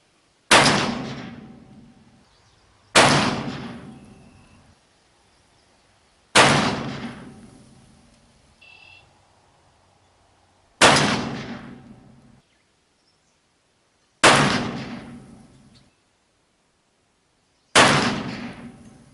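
Six loud, sharp shots from an 1860 Pietta black-powder revolver loaded without lube or wads, spaced about three seconds apart, each blast ringing out and decaying into silence.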